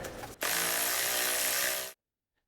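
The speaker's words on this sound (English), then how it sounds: "We have to remove those 2 bolts and just get this little plastic thing out." Power tool or ratchet driving out 10mm bolts on the front plate of a 2006-2010 Subaru Forester EJ25 engine during head gasket removal, one loud continuous whirring burst of about one and a half seconds after a brief lead-in, then silence.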